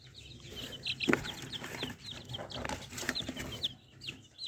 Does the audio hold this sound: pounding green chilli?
no